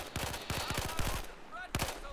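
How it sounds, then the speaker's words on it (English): Rapid bursts of automatic gunfire crackle through a video game battle, clustered volleys repeating close and loud against a busy background of distant shots and combat noise. "I can hear bullets and see grenades, so they're up there somewhere"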